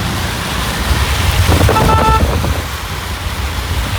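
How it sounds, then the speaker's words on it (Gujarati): Heavy monsoon rain pours down on a town street in Modasa, Gujarat, with water pooling knee-deep. It makes a loud, steady broadband hiss and roar that runs unbroken throughout. "વરસાદ ધોધમાર પડી રહ્યો છે"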